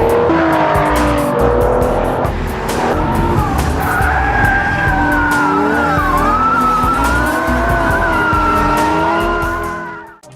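Aston Martin DBS Superleggera with a 5.2-liter twin-turbo V12 in Need for Speed: loud engine howl shifting pitch over heavy tire skidding and squeal, close and continuous, fading out at the end.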